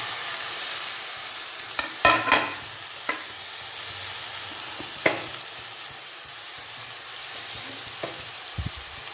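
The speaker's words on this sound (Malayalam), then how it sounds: "അപ്പോൾ ഇനി നമുക്ക് റാഡീഷ് ഇട്ട് കൊടുക്കാം" Radish sizzling in a pan for Kerala radish thoran, a steady close frying hiss broken by several scraping stirs of a spoon against the pan.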